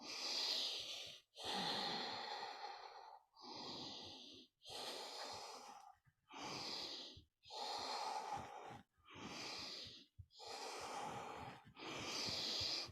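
Deep, steady yoga breathing during a stretching exercise: about eight long, close, loud breaths in a slow, even rhythm, each separated by a brief pause, with no talking.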